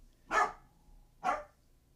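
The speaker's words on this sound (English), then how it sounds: "My dogs are being a little bit grumpy today, so you have to excuse them." Two separate sharp dog barks, about a second apart, loud and close in an otherwise quiet indoor setting with no talking.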